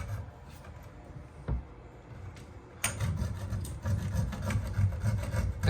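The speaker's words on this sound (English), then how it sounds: "I'm taking a blade from a hacksaw to cut this piece" Hacksaw blade, held by hand without its frame, rasping through a shower drop-ear tee fitting in a tight space, a quiet scraping that turns into louder, steady back-and-forth strokes partway through.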